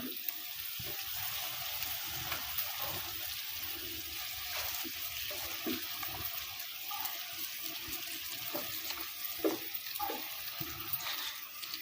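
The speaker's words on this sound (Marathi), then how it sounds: "तेल चांगलं लालसर कलरवर कांदा भाजून घ्यायचा" Onion frying in oil in a pan over a wood-fired chulha, a steady close hiss and crackle with occasional stirring scrapes throughout, no talking.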